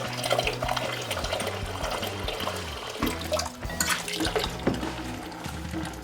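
Home-brewed beer pours from a keg tap, a continuous splashing liquid stream with gurgling and occasional sputters, fairly close and steady throughout, with no talking.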